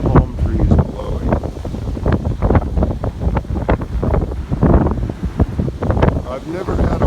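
Strong wind buffets the microphone in loud, gusty bursts on a stormy morning among blowing palm trees, with muffled talking partly buried beneath the roar.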